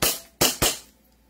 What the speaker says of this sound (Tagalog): it's time to test fire